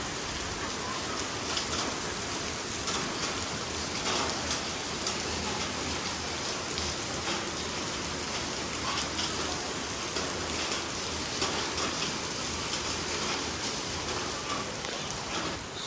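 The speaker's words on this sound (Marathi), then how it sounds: "खूप जोरात असा पाऊस पडतो" Heavy rain pours down in a dense, unbroken hiss, drops drumming steadily on surfaces close by.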